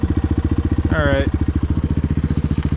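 A Suzuki DR 200 motorcycle with a newly fitted carburetor idles close by in a steady, even putter, while a brief voice breaks in near the middle.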